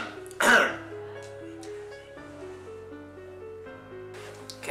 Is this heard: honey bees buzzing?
no